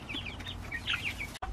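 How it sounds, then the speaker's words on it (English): A broody hen, a Silkie and Rhode Island Red cross, clucks in a quiet run of soft, low murmuring calls, fairly close and alone. "They all know to stay away from that broody hen."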